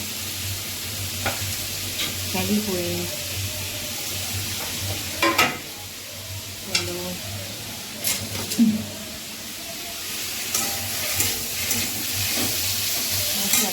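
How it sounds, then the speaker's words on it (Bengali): Potatoes frying in a pan at home late at night, with a steady sizzling hiss and repeated scraping stirs, while a voice speaks now and then over it. "আমি একটু আলু ভাজা করে নিচ্ছি"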